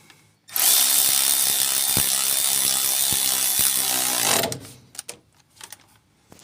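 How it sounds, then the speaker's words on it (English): A loud electric ratchet whirs steadily for about four seconds while removing bolts on a VW T2 Bay Window camper, with a few clicks, then stops, leaving faint clatter and handling noises. "This is a job I used to dread, but now with the electric ratchet, it takes minutes now to do."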